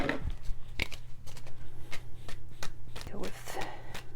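Tarot cards are shuffled by hand in quick, crisp riffling bursts and soft slaps, close to the microphone, with a voice speaking alongside.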